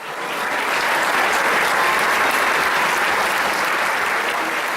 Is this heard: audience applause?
yes